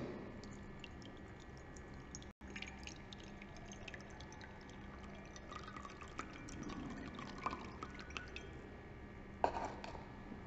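Water is poured into a plate in a steady, low trickle with faint dripping and splashing throughout, soft and close with no talk.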